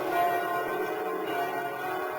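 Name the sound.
church bells ringing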